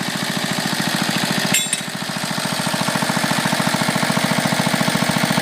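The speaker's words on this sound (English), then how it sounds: "I love the sound those ball mufflers make. It makes them sound deeper than the regular." A 1941 Briggs engine fitted with ball mufflers runs steadily and loud up close, with a fast, even chugging pulse and a deep exhaust tone, briefly dipping in the middle before settling back.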